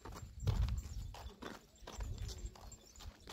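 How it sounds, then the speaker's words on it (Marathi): A horse belonging to Balumama's palkhi moves about while grazing outdoors, its hooves knocking in an uneven clip-clop, fairly close, with soft shuffling between steps. "बाळूमामाच्या पालखीचा घोडा तिथं सध्या हो का चरत आहे."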